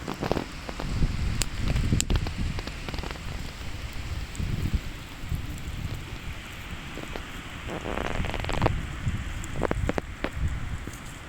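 Heavy rain falls steadily on the shore of Lake Terkos during a fishing trip, a dense continuous hiss with scattered louder drops and patters, close and fairly loud throughout with no voices.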